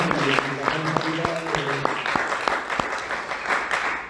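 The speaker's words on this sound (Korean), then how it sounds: "격려의 박수를 한번 부탁드리겠습니다." A congregation at a Sunday worship service claps in encouragement, a steady wash of applause with sharper individual claps poking through, while a voice speaks over it.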